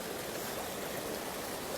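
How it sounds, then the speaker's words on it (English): A waterfall pours in a steady, even rush of broadband water noise, soft and continuous with no voices or other sounds over it. "So we have the beautiful waterfall"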